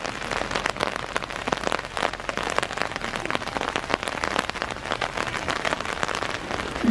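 Steady rain falling around a traditional Japanese setting in Gero, a dense continuous patter of drops on surfaces with no voices, evenly loud from start to finish.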